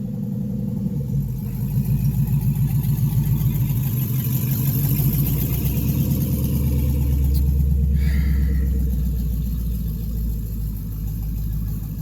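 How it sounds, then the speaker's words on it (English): A loud truck rumbles past nearby, its low engine drone swelling and holding steady before fading slightly, with no voices over it. "There's a loud truck coming by now."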